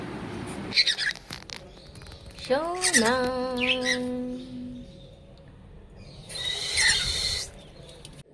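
A bird nesting with eggs inside a clay pot gives several sharp, agitated calls, one drawn into a long harmonic cry, close by, with a person speaking briefly nearby.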